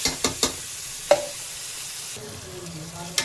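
Tomatoes sautéing with rock salt in a pan make a quiet, even sizzle, broken by a few sharp clicks of a spoon stirring against the pan.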